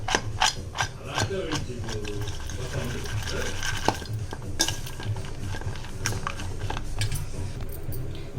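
A spoon stirring a green gram and chickpea mixture with lemon in a metal bowl, producing repeated scraping clinks and taps in a steady rhythm, close and clear with a low hum underneath.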